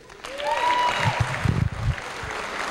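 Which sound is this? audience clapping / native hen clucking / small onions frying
audience clapping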